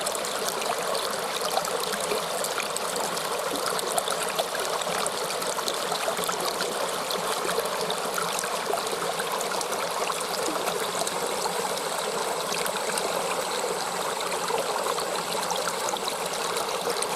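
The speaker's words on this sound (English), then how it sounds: "This is the creek we've just come up." Mountain creek in jungle country flowing steadily over bedrock, a continuous broadband rush and trickle that stays close and even throughout with no voices.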